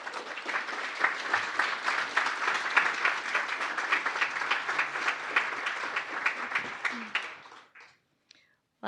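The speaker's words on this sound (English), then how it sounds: "please give a big round of applause to Adrienne Schmoker." Conference audience breaks into a big round of applause, many hands clapping steadily for several seconds before it tapers off and stops near the end, leaving near silence.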